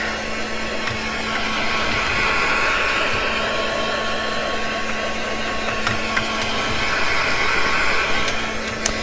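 A hair dryer blows steadily and loudly at close range, drying iridescent stamps for a junk journal, with an unbroken whirring hiss throughout and no talk.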